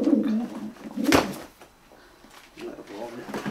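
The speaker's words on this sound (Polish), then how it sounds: "Super gołębie." Racing pigeons in a loft give soft, throaty coos, close and in short bursts, with a sharp knock in between and a voice speaking nearby.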